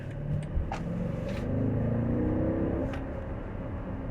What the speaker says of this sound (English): let's take off from a light here in Sport Plus mode. I'll show you the sound and what the acceleration is like